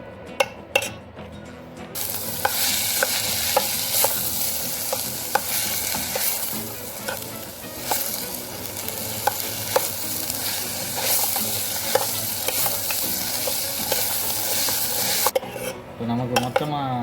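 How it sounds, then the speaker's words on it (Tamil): Onions sautéing until golden for a green gram (pasi payaru) side dish, a steady close sizzle under repeated scraping stirs of a spoon against the pan, continuous for most of the stretch with no talk. "இப்போ நமக்கு மொத்தமாக வெங்காயம்லாம் நல்லா வதங்கிடுச்சு, பொன்னிறமாக வந்துருச்சு"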